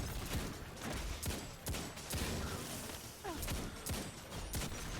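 Rapid hand cannon gunfire in the video game Destiny 2, a dense run of sharp shots stacked close together with explosive bursts, loud and continuous with no talking.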